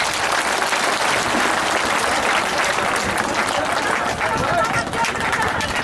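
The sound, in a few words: crowd applause at political rally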